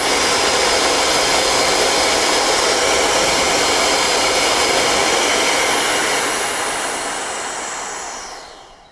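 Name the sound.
Roedix R9 electric air duster running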